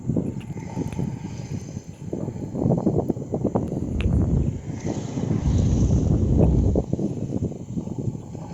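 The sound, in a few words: wind blowing in the village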